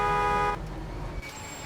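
A car horn honks in the video game Mafia, one loud sustained blare at the start that cuts off sharply, followed by engine and street ambience.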